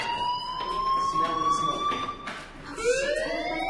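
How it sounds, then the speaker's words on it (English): A school fire alarm in the video game Life Is Strange sounds as a steady, loud electronic siren tone with a slightly rising pitch, dipping briefly before resuming. "Hey, do you hear that fire alarm?"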